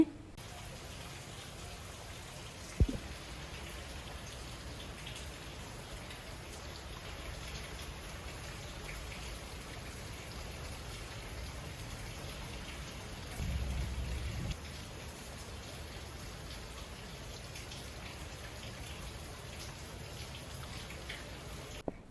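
Steady rain falls outside a home, a continuous even patter of drops on surfaces with one brief knock early on and a short low rumble midway, no voices.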